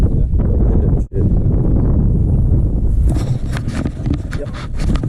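Strong wind on Long Lake during an early-winter smallmouth bass fishing tournament buffets loudly and roughly across the whole moment, with a brief lull partway through.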